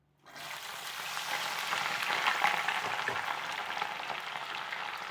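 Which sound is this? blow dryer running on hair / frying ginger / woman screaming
frying ginger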